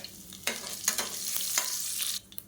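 Whole cumin, fenugreek, dried red chilies and curry leaves fry in hot oil, giving a steady close crackle with sharp pops and stirring scrapes, no voices.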